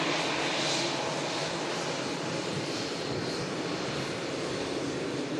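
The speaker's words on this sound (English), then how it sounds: "The TUI Dreamliner vacating, using the rapid exit taxiway" TUI Dreamliner airliner rolling off the runway onto a rapid exit taxiway at Manchester Airport, its engines giving a steady, fairly distant roar and whine that hold evenly throughout.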